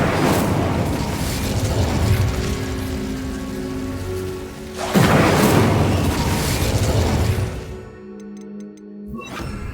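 Bombarda and Incendio spell blasts fired in the video game Hogwarts Legacy: loud, crackling, noisy bursts over a continuous roaring bed, with a fresh surge around the middle and a sudden drop to near quiet near the end.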